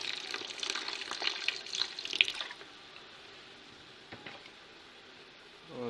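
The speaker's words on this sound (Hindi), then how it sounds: "और अब इसमें थोड़ा सा पानी ऐड करेंगे।" Water streams into a cooking pot of mutton pulao for a couple of seconds, a close splashing pour that fades to quiet with a few faint drips and clinks after.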